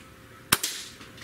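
A Gamo Arrow multi-shot PCP air rifle fires a single sharp, close crack followed by a brief softer report, standing alone against quiet room noise.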